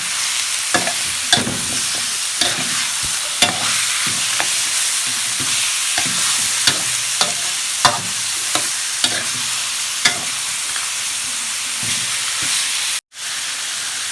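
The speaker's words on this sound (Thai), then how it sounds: "เราจะผัดให้หมูสุกเลยนะคะ" Pork stir-fried in a hot pan for a northern Thai noodle dish, with a steady loud sizzle and hiss throughout and regular scraping clatters of a spatula stirring the meat.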